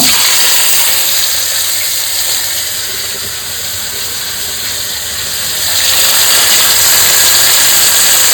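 Cumin seeds and bay leaf tempering in hot mustard oil in a kadai, a loud, steady broadband sizzle that dips slightly midway and then swells again, with no voices.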